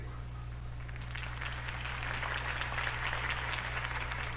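Crowd applause after a mayoral campaign speech in the Batman Telltale Series game, a soft, distant wash of clapping that swells slightly midway over a steady low electrical hum.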